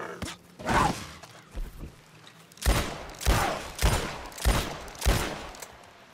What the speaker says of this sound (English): I heard another gunshot, too, just a second ago.